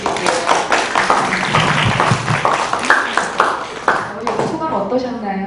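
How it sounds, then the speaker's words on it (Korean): Loud, dense applause from an audience at a live literary poetry concert, steady clapping with a few scattered voices and shouts mixed in throughout. "우리 효자 김종현 시인에게 어머님도 여기 계시라고 박수 좀 부탁드릴게요."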